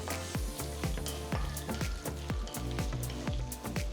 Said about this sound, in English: Once the mustard starts splattering